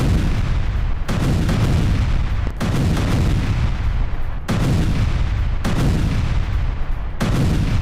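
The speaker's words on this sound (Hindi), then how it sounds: "भीषण धमाके से दहला वेस्ट बैंक का इलाका।" Loud, continuous blast and rumble from a heavy explosion in the West Bank, a dense roaring boom broken by several abrupt cuts, with no talking over it.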